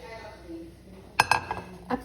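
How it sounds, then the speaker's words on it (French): Grated tomatoes are tipped into a cooking pot for Moroccan harira vegetable soup, giving a few sharp clinks and knocks of a utensil against the pot's rim, fairly close and in quick succession, over a quiet kitchen background. "je vais commencer tout d'abord par mettre dans la marmite les tomates râpées"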